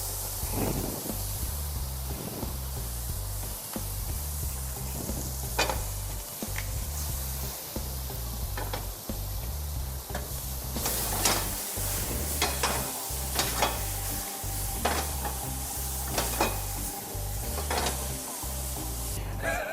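Bananas fry in a pan with a constant loud sizzle while a utensil repeatedly scrapes and stirs, the strokes coming in an irregular rhythm close by throughout.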